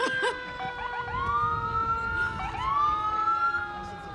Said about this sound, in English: those sirens could only mean one thing